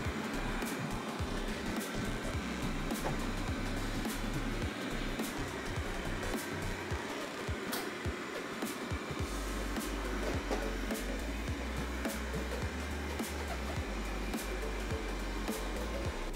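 A Narwal T10 robot mop and vacuum runs indoors around coffee grounds on the floor, giving a continuous, even whirring hum with steady airflow noise throughout, close and moderately loud.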